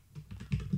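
Keys clacking on a computer keyboard as a command is typed into a Debian terminal, a quick, close run of several distinct taps growing slightly louder toward the end, with no talking.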